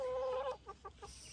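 Chickens kept in a mucky, fly-troubled farm pen give a short drawn-out call followed by three quick, evenly spaced clucks at moderate, close range, with no talking.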